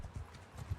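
Horses trampling in the video game Mount & Blade 2 Bannerlord: quiet, muffled low hoof thuds in an uneven clip-clop rhythm, a few beats in under a second, faint and distant.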